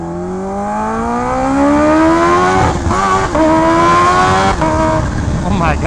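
A Kawasaki Ninja H2R motorcycle accelerates hard through the gears, its engine whine climbing steeply in pitch, briefly dropping at each shift, then rising again, loud and close; a voice speaks over it.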